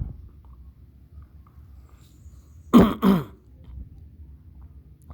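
A person coughs twice in quick succession, close and sharp, between stretches of quiet room noise.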